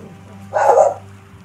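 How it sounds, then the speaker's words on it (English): A pet dog lets out a single loud, close bark over low background hum, with no talking at the same moment. "Oh, that's my doggy."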